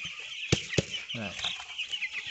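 Chickens cluck softly in a poultry house during chick vaccination, low scattered calls punctuated by two sharp knocks early on.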